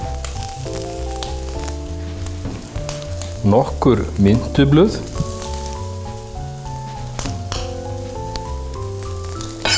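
Meat frying in a pan, a steady close sizzle running throughout beneath background music, with brief stirring or scraping bursts midway and a short spoken phrase.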